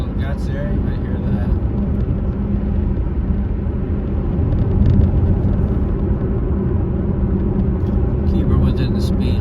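A Camaro RS is driven along a coastal road, its engine giving a steady low rumbling drone that swells slightly midway as it is given more throttle, with wind and road noise and someone talking over it.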